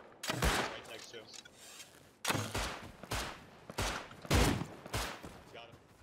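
Shotgun fire in the survival game Rust: a run of loud, sharp blasts with long tails, spaced irregularly over several seconds.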